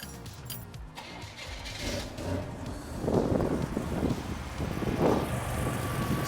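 A Buick Grand National engine cranks and fires up, settling into a steady running rumble with a couple of louder surges, heard up close with some wind noise and no talking.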